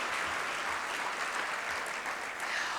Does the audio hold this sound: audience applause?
yes